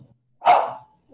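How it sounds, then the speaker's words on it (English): A single dog barks once indoors during an online class, a short, fairly loud bark rising out of near silence and trailing off quickly. "Who is barking?"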